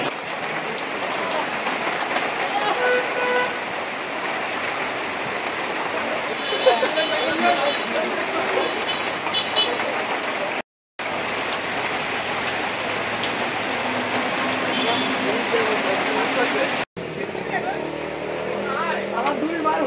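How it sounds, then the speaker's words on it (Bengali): Steady heavy rain falls in Chuadanga, a dense continuous hiss of drops striking surfaces close by, with brief cuts in the sound and faint voices in the background. "দীর্ঘদিন পর বৃষ্টি হইলো, অনেক ঠান্ডা এখন বৃষ্টির কারণে"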